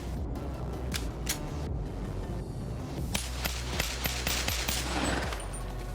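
A Glock 22 pistol fires repeatedly in the VR game BONELAB, with sharp, snappy cracks at an uneven pace, some spaced out and others in quick succession, loud and close over a steady background hum.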